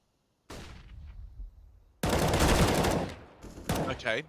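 Rifle gunfire in Counter-Strike on the Dust2 map, a loud burst of shots opening the clip, then a dense sustained volley of automatic fire with more sharp bursts near the end, close and intense.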